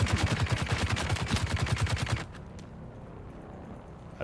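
Rapid, evenly spaced machine gun bursts hammer loudly for about two seconds in the Dune video game, then stop abruptly, leaving a low ambient hum.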